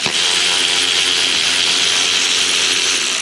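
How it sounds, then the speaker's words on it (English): Ratchet wrench turning bolts on a Honda Odyssey 3.5 alternator bracket, a rapid, close, continuous clicking of the pawl over a few seconds, with no talk. "You're gonna break your ratchet."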